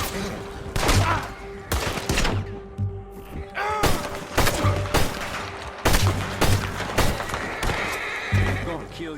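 Gunfire in the video game Red Dead Redemption 2, mixed with a horse neighing and hooves clip-clopping, sharp repeated bursts at close range while voices shout over the action.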